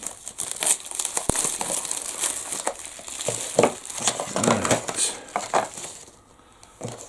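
Crackling, crinkling plastic film being snipped and peeled off a microwaveable Sun Hee udon noodle bowl up close, with scattered light clatter, continuing for several seconds before fading.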